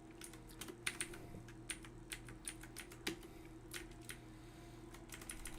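Computer keyboard typing with quick irregular keystroke clicks in bursts over a low steady hum, moderately close and alone.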